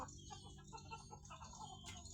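Free-range native village chickens cluck softly and continuously nearby, with short overlapping calls over a low steady background and no talk.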